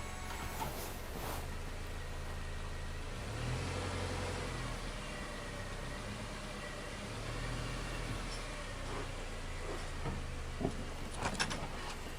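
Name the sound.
Subaru car backing onto roller test ramps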